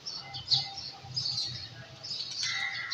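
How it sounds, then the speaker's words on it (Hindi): Birds call in the morning, including pigeons, giving scattered chirps and soft repeated coos at moderate distance against a quiet, slightly noisy background. "तो पंछी मतलब बर्ड्स जो है, पिजन, परिंदे, उर्दू में परिंदे,"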